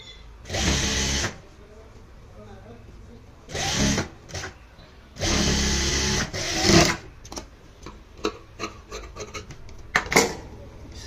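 Three loud, close bursts of sewing machine stitching on a blouse, separated by quiet pauses, followed by scattered clicks and light handling of the fabric and machine.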